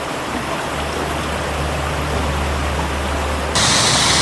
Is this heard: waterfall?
yes